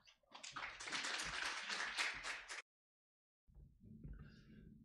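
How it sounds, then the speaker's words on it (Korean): An audience at a Korean academic lecture meeting on health functional foods research applauds to welcome a speaker, with dense, soft clapping lasting about two and a half seconds, then silence and faint room noise. "큰 박수로 모시겠습니다."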